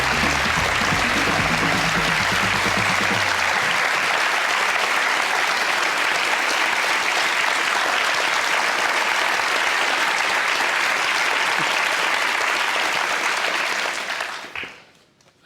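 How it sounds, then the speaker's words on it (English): Audience applause at a college event, a broad continuous clapping from a crowd that starts over brief talk and music, holds steady, then stops abruptly near the end. "Are you getting used to the applause already?"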